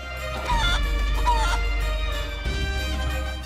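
A cartoonish chicken in the game Guacamelee clucks and squawks in a few short bursts over steady background music.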